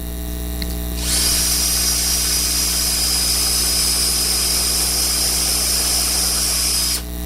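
A cordless power drill whines steadily and loudly for about six seconds while drilling wood, close by, starting abruptly and stopping cleanly.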